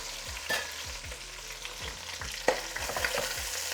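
Pork and onions frying in a pan, a steady loud sizzle broken by rhythmic low scraping strokes of a spatula stirring, close and alone without talk.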